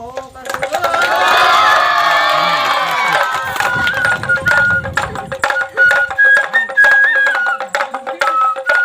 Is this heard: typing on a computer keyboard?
no